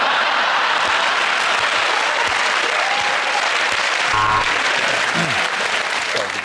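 Studio audience of a TV comedy panel show applauding steadily and loudly throughout, a dense sustained wash of clapping with a brief voice near the end.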